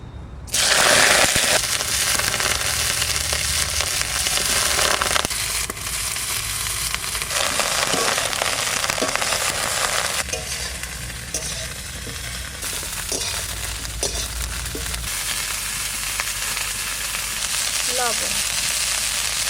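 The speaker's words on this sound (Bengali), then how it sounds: "ব্রোকলিটা আগে ভেজে নেব সরষের তেল।" Broccoli frying in mustard oil in a village kitchen, a steady loud sizzle running throughout with occasional stirring clatter and no talk.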